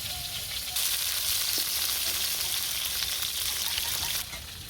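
Pointed gourd and fish roe fry in hot oil in a village kitchen, giving a steady, close sizzle with a crackling hiss that grows louder after the first moment and eases near the end.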